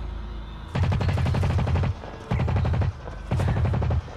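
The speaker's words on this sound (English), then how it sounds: "Shoot it. Keep on shooting it." Gunfire from the video game Blacklight: Retribution aimed at a mech suit, three loud bursts of rapid automatic shots, each about a second long with short pauses between.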